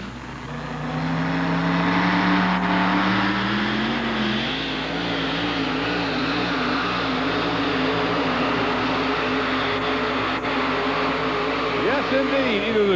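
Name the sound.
1989 Dodge pulling truck engine roaring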